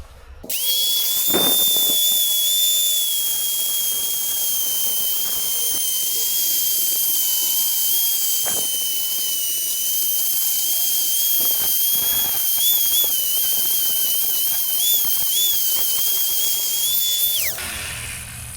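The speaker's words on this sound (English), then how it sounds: "Got this little grinder wheel here. I'm going to see if I can clean up this edge on the inside here." A small grinder wheel cleans up the inside edge of an old pair of loppers, a loud steady high-pitched whine running almost continuously for about seventeen seconds before cutting off.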